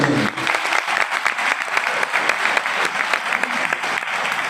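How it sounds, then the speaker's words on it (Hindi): Loud, dense audience applause at a health awareness talk on Ayurveda, sustained and even throughout with no pause. "उस आयुर्वेद के लिए जोरदार तालियां हो रही हैं।"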